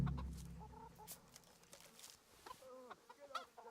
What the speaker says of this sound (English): Get the chicken feed, feed the chickens.